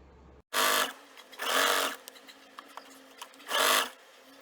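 A home sewing machine stitches a folded layer of a men's shirt collar. There are three distinct whirring runs with short pauses between them. The machine is close and clear, with no talking.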